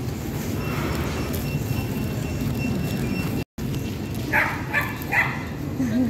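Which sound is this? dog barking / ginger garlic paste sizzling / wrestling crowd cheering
dog barking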